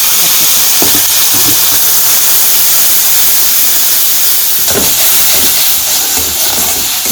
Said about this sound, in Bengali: মশলা তো কষানো হয়ে গেছে।